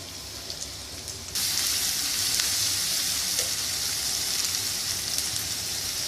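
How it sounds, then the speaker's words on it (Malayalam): Onions frying in hot oil in a pan while making biryani masala for squid biryani, a quiet sizzle that jumps to a loud, steady, close crackling hiss and continues without talk. "ഈ എണ്ണയിലോട്ട് ഉള്ളി ഇട്ടിട്ട് വഴറ്റുക."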